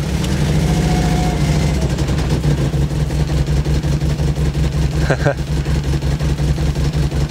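A freshly started Porsche engine idles with a loud, close, steady low rumble and a slightly uneven pulse, while people talk excitedly over it.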